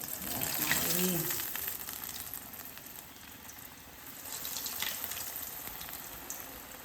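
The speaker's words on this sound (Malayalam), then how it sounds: "ഇതിലേക്ക് ഓരോന്നോരോന്ന് ഇട്ട് കൊടുത്തിട്ട് ഒന്ന് പൊരിച്ചെടുക്കാം" Vegetable cutlets fry in hot oil in a frying pan, a soft steady bubbling sizzle with a brief low murmur near the start.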